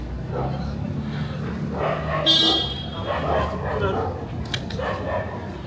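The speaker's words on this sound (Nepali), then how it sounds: "कत्रो मोटो मोटो खालको कुकुरहरू पनि" Several large dogs bark and yip in short bursts, some near and some farther off, mixed with people talking and a brief high electronic tone, in Darjeeling.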